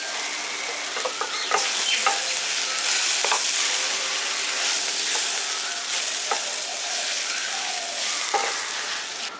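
Spatula stirring a soybean and cabbage curry in a pan after the gas is switched off, with repeated scraping strokes over a light lingering sizzle, close and alone.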